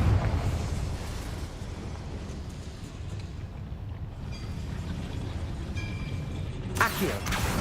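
A Confringo fire spell blasts in the Hogwarts Legacy video game, with a steady rumbling roar under the gameplay and a sharp, loud burst near the end.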